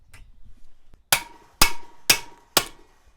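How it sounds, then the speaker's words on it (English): Four sharp metallic hammer strikes on the back of an impact screwdriver, at a steady pace, each ringing briefly with a bright clang, close and loud after a quiet start. "You hit it on the back with a hammer, and it basically impacts"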